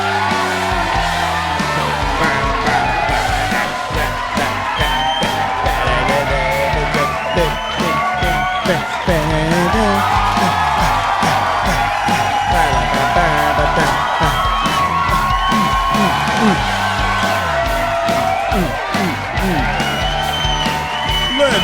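Studio audience at a late-night podcast show cheering, whooping and yelling, loud and dense throughout, with voices shouting over the crowd.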